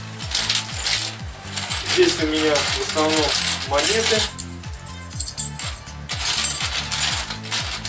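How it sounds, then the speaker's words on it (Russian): Metal coins clink and jingle together as they are sorted and poured, a busy rattling of small pieces, with someone speaking over the sound. "монеты большого среднего размера"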